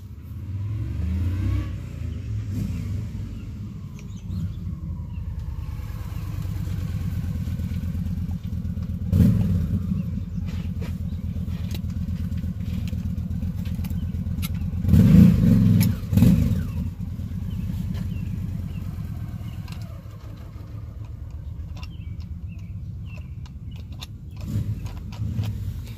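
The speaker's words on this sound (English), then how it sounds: "That's a motorcycle." A motorcycle passes outside while someone works on an RV starter, a steady low engine rumble with a louder revving swell near the middle before it fades back, no talking.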